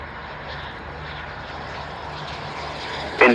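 A fixed-wing aircraft landing on runway 27 at the Royal International Air Tattoo airshow, a steady, fairly loud engine roar holding throughout before a sudden sharper burst near the end.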